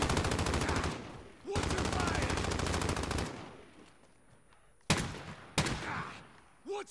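Another player firing at close range in an online shooter game, with long rapid automatic bursts up front, then a quieter stretch broken by a few sharp single shots.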